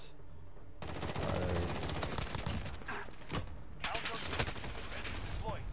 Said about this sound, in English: That's a decoy grenade.